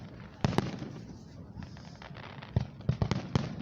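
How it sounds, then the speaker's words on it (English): Fireworks at the 2026 Celina Lake Festival show by Grand Lake St. Marys in Celina, Ohio, boom in sharp, scattered bursts over a steady crowd murmur, a few loud close cracks standing out. "hope you're really enjoying the fireworks show here at the Celina Lake Festival"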